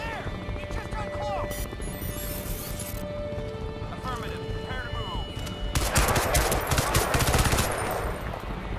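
Gunfire rattles through a Crysis 2 firefight, bursts sitting under constant game sound with a louder, denser volley near the end, while a player keeps talking throughout.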